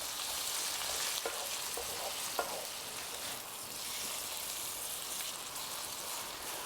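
Eggs frying in a GreenPan skillet give a steady, bright sizzle, with a few soft scraping stirs breaking through the even hiss, close and without voices.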